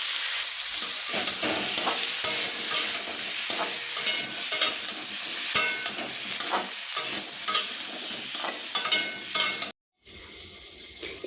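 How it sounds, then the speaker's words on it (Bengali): Potatoes fry in a pan with chili powder and turmeric, a continuous loud sizzle broken by frequent stirring scrapes, up close, with a brief dropout near the end. "এর মধ্যে লঙ্কা গুঁড়ো দিয়ে নিচ্ছি এর মধ্যে হলদি গুঁড়ো দিয়ে এটাকে ভালো করে ভেজে নেবো"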